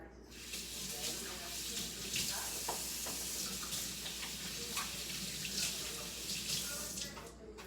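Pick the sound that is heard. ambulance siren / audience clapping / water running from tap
water running from tap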